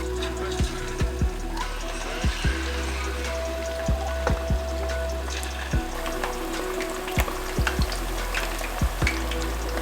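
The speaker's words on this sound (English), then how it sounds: "Oil should be ready, so let's go ahead and start frying" Chicken pieces fry in hot oil, sizzling and crackling steadily, with scattered sharp pops and spits throughout, close up and without talk.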